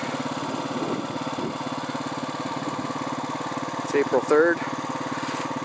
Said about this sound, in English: we mount this all on the Honda four-wheeler